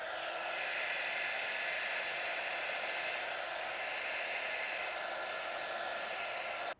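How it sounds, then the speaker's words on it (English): A heat gun warms paint protection film during installation on a Tesla Model Y, giving a steady, close, even blowing whoosh that runs unbroken and stops abruptly at the end. "with your heat gun, you're gonna heat up the inside of the film"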